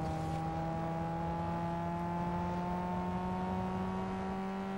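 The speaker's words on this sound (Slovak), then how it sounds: "Pekný zvuk motora." A car engine in the racing video game Need for Speed Underground 2 holds a steady, loud revving drone that climbs slowly in pitch for several seconds, with no talk over it.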